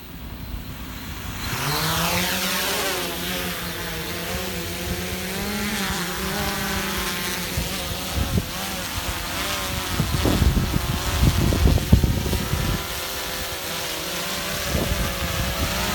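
Motors of a SwellPro SplashDrone 3 drone floating on water and tangled in vegetation give a constant high buzzing whine that rises and shifts in pitch as it pulls free, with some churning and splashing underneath.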